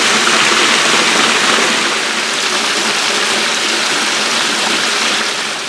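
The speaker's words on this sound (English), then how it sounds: "they got a lot of extra water in the lake coming out down the creek here" A creek running heavily with extra lake outflow after heavy rain: a loud, steady, broadband rushing roar of fast water, close and unbroken throughout, with no voices.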